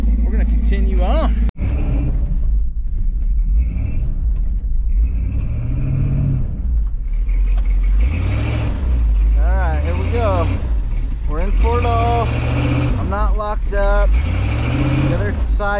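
Chevrolet K5 Blazer engine crawling up a steep off-road trail, a loud low rumble with repeated rising revs and tire spin, while people talk over it.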